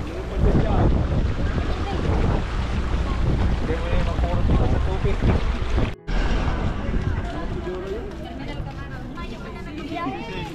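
Strong typhoon wind during Typhoon Christine roars and buffets the microphone continuously over floodwaters in Naga, with boat and water noise underneath and voices talking through it.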